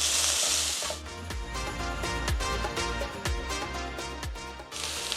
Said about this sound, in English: I'm adding my onions to the pan. Let that saute for about 2 minutes.